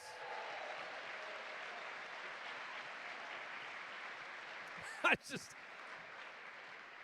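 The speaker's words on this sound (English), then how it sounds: "How about a round of applause for the parents in the audience tonight?" Faint, distant applause from the audience at a senior letterwinners' dinner, honoring the parents: a steady wash of clapping throughout, broken by a brief sharp sound near the end.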